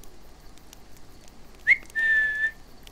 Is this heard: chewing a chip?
no